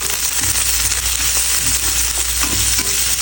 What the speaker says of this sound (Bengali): এখন চিংড়িটা দিয়ে দেবো চিংড়িটা হালকা লাল লাল করে আমি প্রথমে ভেজে নেব